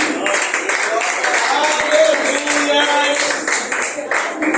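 A church congregation claps along during worship, dense continuous clapping mixed with voices and singing that stays loud and close the whole way through.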